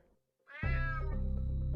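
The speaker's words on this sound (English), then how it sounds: "Damn cat." Cat in the video game UnMetal gives a single loud, drawn-out meow that rises sharply after a brief quiet and holds its tone to the end, heard alone with no talk.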